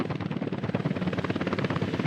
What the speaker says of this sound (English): Let's assign the helicopters over here to start working on all of these items as well.